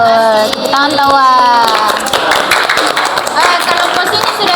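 Students clapping hands in a classroom, a brisk patter of claps mixed with children's voices and chatter throughout, fairly close and loud.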